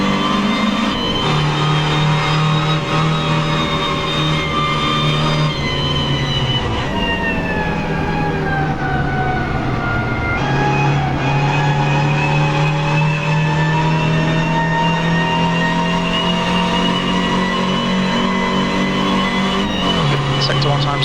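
Front-wheel-drive race car in Assetto Corsa hot-lapping Donington Park National Circuit, its engine droning steadily with rising and falling pitch through gear changes, loud and continuous while someone talks over it.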